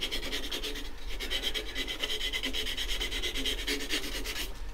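Sandpaper rubs steadily against wooden flower petals spinning on a woodturning lathe, making a continuous close rasping hiss with fast, even pulsing from the rotation.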